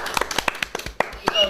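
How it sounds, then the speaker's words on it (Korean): Hands clapping at the start of a Korean student talk show on switching from a feature phone to a smartphone, a few distinct close claps in an uneven rhythm. "일단 박수!"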